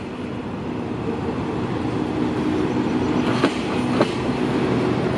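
A CNR passenger train built by Hitachi pulls out of the platform at Hua Lamphong station, Bangkok. It gives a loud, steady rumble with a couple of sharp wheel clacks, and no voices.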